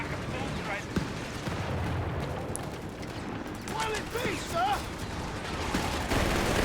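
Battlefield clamor from a Company of Heroes 3 match, British versus DAK: dense, rumbling bursts of gunfire roll under a commentator's continuous speech, with the machine gun blending into the mix rather than standing out clearly.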